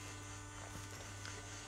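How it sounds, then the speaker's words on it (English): An AGS brass case annealer runs with a case rotating under heat, giving a low, steady electric buzz and hum that stays constant and faint throughout, with no other sounds. "so heat is coming here, and the case is rotating as well"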